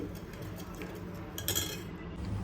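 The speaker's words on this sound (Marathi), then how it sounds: "आता इथे आपल्याला डाळ छान अशी घोटून घ्यायची" Cooked dal being mashed with a utensil in a pressure cooker, close up, giving a steady run of scraping with light metallic clinks and taps for a few seconds.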